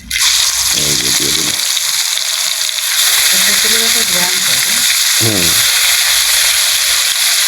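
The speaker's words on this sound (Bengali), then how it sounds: "মাছ এই যে হলুদ দিয়ে মাখিয়ে লবণ হলুদ দিয়ে মাখিয়ে নিয়েছে ভাজি করার জন্য দিয়ে দিলাম" Turmeric- and salt-coated fish frying in mustard oil in a pan, a steady loud sizzle and crackle running throughout, with someone speaking over it at intervals.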